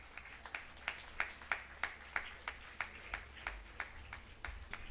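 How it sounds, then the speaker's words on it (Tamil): Sparse, steady rhythmic clapping from an audience at an award presentation during a Tamil book-release function, about fourteen claps spaced evenly, faint and slightly distant. "உங்களுடைய பலத்த கரகோஷங்களுக்கு மத்தியிலே"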